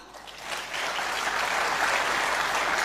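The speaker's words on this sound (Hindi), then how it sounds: "एक बार जोरदार तालियां" An audience bursts into loud applause, the clapping swelling within the first half second and then holding steady as a dense, continuous roar of hands.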